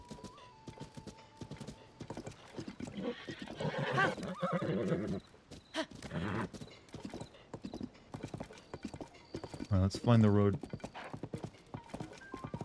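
Hooves of a horse in Zelda Tears of the Kingdom clip-clop steadily as it is ridden, with a loud whinny near the end, under game music and someone speaking.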